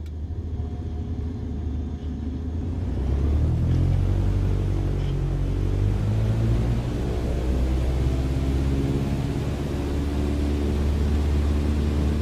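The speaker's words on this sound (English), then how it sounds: "Apply full power and I'll walk you through the takeoff as we go." A light aircraft's engine in Microsoft Flight Simulator 2020 spools up to full takeoff power, a low, steady rumbling drone that swells after a few seconds and holds loud and constant.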